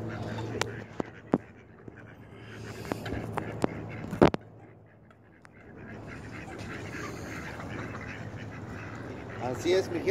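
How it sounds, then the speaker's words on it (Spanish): Several ducks quack close by in scattered bursts, with a louder call midway, over a quiet outdoor background. "Aquí estamos en medio de los patos."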